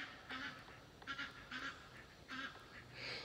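Several ducks quack outdoors in the Arkansas woods, a run of short nasal honking calls at moderate distance over a steady background hiss.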